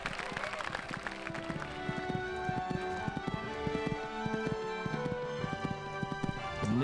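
Galloping horse hooves in a horse riding show-jumping video game, a fast steady clip-clop rhythm running throughout under looping game music, with commentary talk over it.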